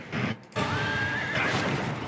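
A horse in the Crimson Desert game trailer lets out a single long, loud neigh close up, rising and wavering into a whinny after a brief gap in a dense rumble of background sound.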